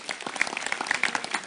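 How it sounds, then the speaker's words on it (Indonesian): A crowd at an evening religious gathering in Wonosalam, Indonesia claps in a short burst. Many hands strike close together in a busy, uneven patter, with no talk heard. "Jadi tepuk tangan sekali lagi untuk beliau."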